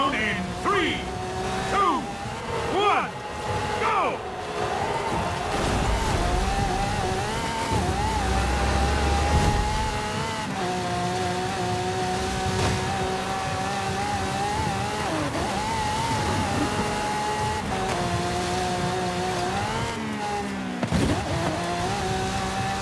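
Race cars in a Forza Horizon 5 Eliminator race, including an AMG One, with engines droning and revving steadily through gear changes and occasional rising whines, while a voice talks over them most of the time.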